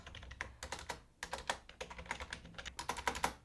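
Soft, fast typing on a membrane keyboard, a steady patter of quiet keystrokes with brief pauses, close and fairly faint.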